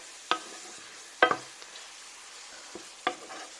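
Garlic butter shrimp are stirred in a pan, a few sharp scrapes and knocks of the utensil spaced over a quiet, soft sizzle.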